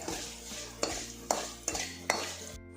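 Kashmiri chili stirred in hot oil in a pan for a Kerala moru curry: about five sharp spatula scrapes and clinks land at a steady pace over a low, continuous frying hiss, close by, with no one talking.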